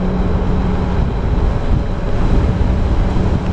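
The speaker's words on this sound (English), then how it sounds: "the wind is blowing, and the wind is cold" Cold wind blows steadily outdoors, a loud continuous rush buffeting the microphone with no let-up.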